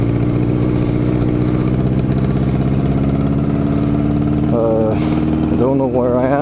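A small engine rated around 36 horsepower runs steadily and close by, a continuous mid-pitched drone with rising revs near the end; a voice talks over it.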